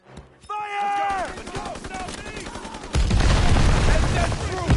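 Rifle and machine gun fire in a World War II combat game: scattered sharp shots over whistling and tonal battle effects, then a dense, loud sustained barrage of rapid automatic fire near the listener, with shouted voices mixed in.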